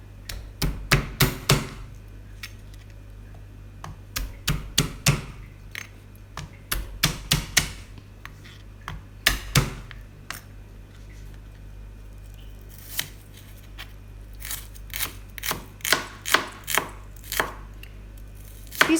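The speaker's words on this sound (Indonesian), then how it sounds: "bumbunya cukup digeprek dan diiris saja" A knife chops spices rapidly on a cutting board in quick bursts of sharp taps, pausing between rounds, close and crisp with no talking.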